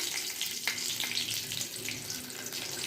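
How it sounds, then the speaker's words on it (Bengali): Panch phoron spices and dried red chillies frying in hot oil in a wok, a steady close crackling sizzle with faint splashy tones throughout, no voices. "তেল গরম হয়ে গেছে, অল্প একটু পাঁচফোড়ন দিয়ে দিলাম, শুকনো লঙ্কা ফোড়ন দিলাম।"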